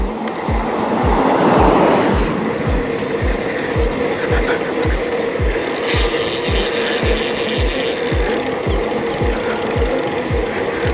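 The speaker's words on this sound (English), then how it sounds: "you can probably hear the hub engaging even though I'm pedaling" Rapid, steady mechanical clicking of a ratcheting Urtopia e-bike rear hub while pedaling, evenly spaced ticks continuing throughout over a low rolling rumble, with no voices.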